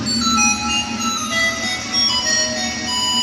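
A phone rings with an incoming call during a storm of rain, wind and thunder. Its tinkling, melodic ringtone plays loud and close, repeating its tune continuously with no voices over it.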